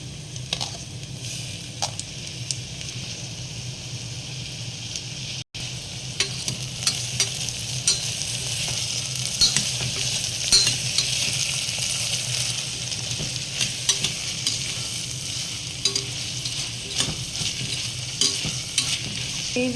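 Red and green capsicum frying for pav bhaji sizzles steadily in a pan, with repeated scraping stirs of a spoon and occasional sharper clicks throughout.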